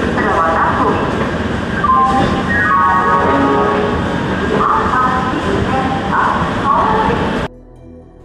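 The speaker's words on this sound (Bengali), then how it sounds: "ট্রেন নির্দিষ্ট সময়ে ছেড়ে দিল" An LHB-coach Doon Express (13009) pulls out of Howrah on time bound for Varanasi. Loud, close rolling rumble and clatter of the train is heard, with tonal squeals and hum on top. The noise drops off sharply near the end.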